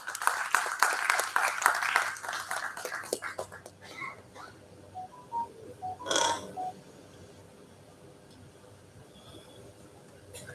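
An audience at a national seminar applauds to welcome a guest, giving a few seconds of moderate clapping that dies away into a quiet hall with scattered small noises and near silence.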